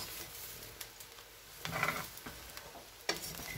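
A spoon stirs a rice and cereal mixture in a pot, giving a soft scraping swish over a faint background sizzle, with a couple of louder scrapes, close and without talk.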